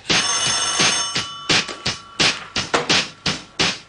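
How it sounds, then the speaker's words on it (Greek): A telephone bell rings loudly and close by, first in a long continuous peal and then in short, evenly spaced bursts, with no one speaking over it. "Τηλέφωνο πάρτο γιατί εγώ θα το βρίσω."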